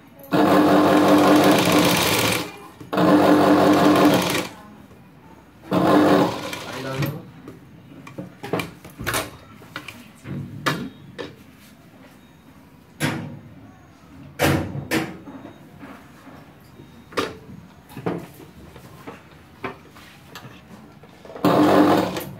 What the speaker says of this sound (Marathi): ह्याच्यावर डबल शिलाई मारायची